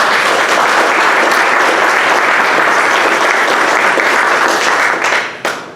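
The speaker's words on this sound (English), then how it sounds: "Let's give her a big round of applause." An audience at a community forum applauds a speaker with loud, dense, sustained clapping from many hands that fades out near the end.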